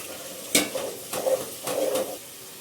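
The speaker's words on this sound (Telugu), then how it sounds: "ఇప్పుడు పచ్చివాసన పోయిన తర్వాత టమాటా పండ్లు, పచ్చిమిర్చి, పుదీనా వేద్దాం ఇందులో" Chopped tomatoes, green chillies and mint are stirred into hot oil in a pot for a pulao, with soft sizzling and a few scraping strokes of a spoon.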